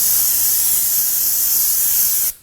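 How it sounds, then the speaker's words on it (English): Brake parts cleaner hisses from an aerosol can onto the rear wheel hub area of a 2017-2024 Nissan Armada. One continuous, loud, close spray runs about two seconds, then cuts off abruptly. "Now I'm going to go ahead and use some brake parts cleaner."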